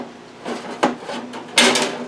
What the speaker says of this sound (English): I'm going to put the pan in.